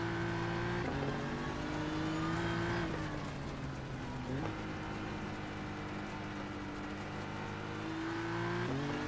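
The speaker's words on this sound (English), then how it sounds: "let's listen to Arian's engine, see if we can hear some coughing and spluttering" A GT race car engine in the iRacing simulator drones steadily at high revs, with pitch dips as it shifts gears and then climbs again, one continuous engine note heard on its own.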